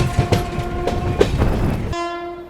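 A Lucknow–New Delhi Tejas express train passes close by with loud rushing rail noise and rhythmic wheel clatter, then a sustained horn blast cuts in near the end.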